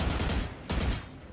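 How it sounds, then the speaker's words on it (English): Rapid bursts of video game gunfire are exchanged during a competitive match, a dense, continuous rattling fusillade with a brief lull and a renewed volley, with no talking. "A little bit of gunfire being exchanged in mid."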